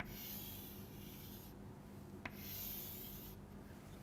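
A bond diagram is drawn by hand on a writing surface, giving faint, steady scratchy strokes in two long passes with a tiny tap between them. The room is otherwise quiet.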